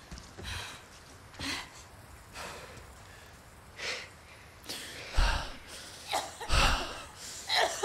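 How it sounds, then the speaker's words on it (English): A character in Resident Evil 4 Remake breaks into a series of harsh, rasping coughs and gasps, irregular bursts spread over several seconds against quiet game ambience. "That is a pretty bad cough."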